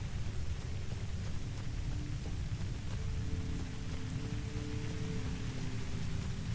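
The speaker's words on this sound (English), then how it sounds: "And it's raining." Rain in Uru: Complete Chronicles hisses as a steady broadband wash with low rumbling beneath, continuous and unbroken, with no voices.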